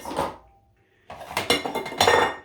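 Dishes and cutlery clatter in a kitchen as they are grabbed and handled, a short clink followed by a pause and then a burst of repeated clattering knocks, close and fairly loud.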